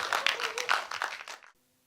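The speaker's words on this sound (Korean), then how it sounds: "큰 박수 부탁드리겠습니다." An audience claps in a brief burst of applause at a Korean public talk event, and the clapping cuts off abruptly into near silence.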